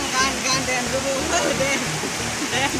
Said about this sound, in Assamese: বৰষুণ ৰাতি দিছে কিজানি সেইটো কাৰণে পানীটো স্পীড লগতে ঢৌ একদম বহুত হৈছে